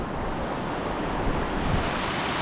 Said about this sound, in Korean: 주차장 바로 옆에 물소리가 들리는데요. 여기 계곡 하천이 흐르고 있어서